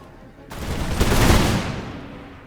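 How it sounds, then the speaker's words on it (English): Musketeers firing a volley in the video game Imperial Splendour, heard as a sudden crackle of many shots that swells into a loud, rolling burst of gunfire and then fades away. "The musketeers should open fire."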